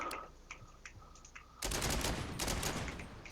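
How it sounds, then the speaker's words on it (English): Sustained rapid gunfire from a G3 battle rifle in the SAS update of the video game Dagger Directive, a loud, dense burst of shots that breaks in after quieter menu clicks and handling noises. "So we also have the G3 now, which is a battle rifle."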